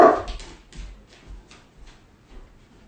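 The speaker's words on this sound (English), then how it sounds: "It's got a big, big bark." A dog lets out one loud, close bark at the start, followed by faint, scattered softer sounds with no talking.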